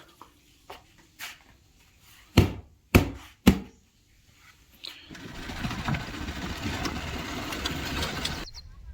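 A motorbike heading out to a farm field: a few sharp knocks and clunks are followed by the engine catching and settling into a steady, moderately loud running drone for several seconds.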